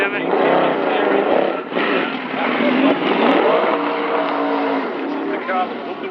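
A Nissan GT-R R35 race car accelerates along a circuit toward a chicane at a car show, its steady engine roar running throughout beneath a commentator's continuous talk over a public address.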